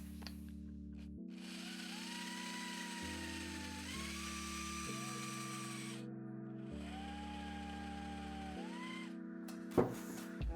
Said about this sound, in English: So I'm just gonna drill little pilot holes right where those are.